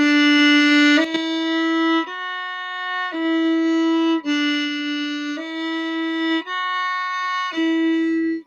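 A bowed string instrument plays a short, slow melody of about eight sustained notes without slurs, each held roughly a second, clear and close.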